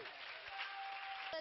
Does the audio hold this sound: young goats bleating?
no